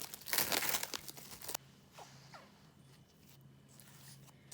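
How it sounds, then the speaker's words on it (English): Plastic wrap peeled off a bowl of risen dough, a loud burst of close crinkling and crackling at the start, then quieter rustles and small handling sounds. "So now we're going to take off the plastic wrap"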